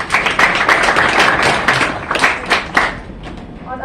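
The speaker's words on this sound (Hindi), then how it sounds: "तालियां बजाइए इनके लिए" Students in a classroom or hall clapping together, a bright burst of many hands that thins out and fades toward the end.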